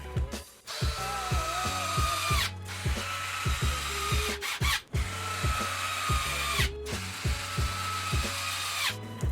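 A hand tool clicks rapidly and evenly while driving screws into the top of a Traxxas X-Maxx RC truck, a close, steady ratcheting rhythm in several runs separated by brief pauses.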